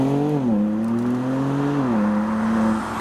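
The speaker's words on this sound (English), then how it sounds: "It's an M5 in Oxford green, making some wafting noises." BMW M5 in Oxford green leaving a car show, its engine note a steady smooth drone with a couple of pitch shifts as it drives past close by.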